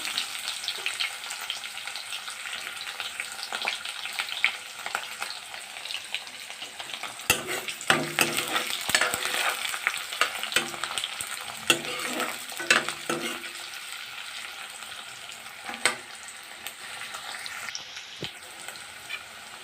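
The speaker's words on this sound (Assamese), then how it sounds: "ৰঙচুৱা হোৱাৰ পিছত পাঁচফোৰণকেইটা পিঁয়াজ দি দিব আপোনালোকে।" Onions and five-spice (panch phoron) sizzle steadily in a pan for a dohi kosu dish, with a run of scraping stirring strokes near the middle and no talk.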